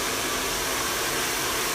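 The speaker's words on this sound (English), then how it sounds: "over the dryer" Steady, close whoosh of a hair dryer blowing over a round brush while styling hair for root lift, unbroken and loud with no talking.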